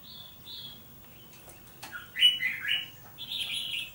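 Small birds, a caged red-whiskered bulbul among them, chirp and tweet in short bursts, fairly close, with bright high calls clustering toward the end over a faint background.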